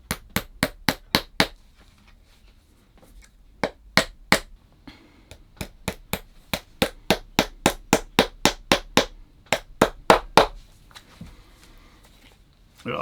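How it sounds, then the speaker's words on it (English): Sharp, rapid hammer blows driving thin lasting nails into a shoe sole, struck in quick bursts of several taps with short pauses between, close and crisp. "I've got my tub of thin lasting nails, so I'm going to hammer these in"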